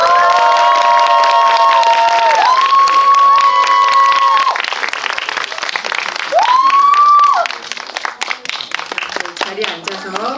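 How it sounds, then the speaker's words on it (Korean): A crowd at a Korean film screening and Q&A for Exhuma claps and cheers, a dense, lively wash beneath loud music with swooping tones, thinning toward the end. "다시 박수가 작아서 안 올라오시는 것 같아요."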